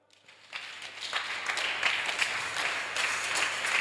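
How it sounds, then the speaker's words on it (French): A church congregation breaks into applause, rising quickly from quiet into sustained, dense clapping that holds at full strength to the end. "On acclame."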